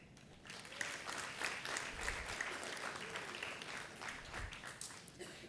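An audience applauds steadily at a school awards ceremony honouring schools, a dense, even patter of many hands from a sizeable crowd, moderately loud and sustained throughout.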